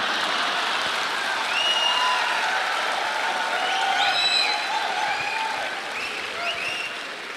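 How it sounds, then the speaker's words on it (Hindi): Audience at a motivational speech breaking into loud, sustained applause, a dense unbroken clapping wash with a few whoops and shouts rising over it before it eases slightly toward the end. "लेकिन आप ताली मत बजाओ"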